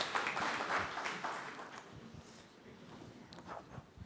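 Faint, scattered clapping from a small audience after a science pitch talk, thinning out within a couple of seconds and fading into quiet room noise.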